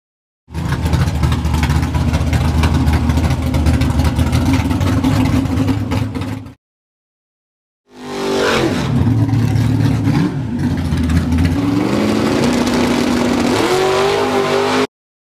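A drag race car fitted with wheelie bars launches hard down the track, its engine roaring loudly for several seconds, cutting out briefly, then roaring and revving again with shifting pitch.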